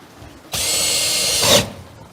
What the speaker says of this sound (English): So I'm going to drill my hole.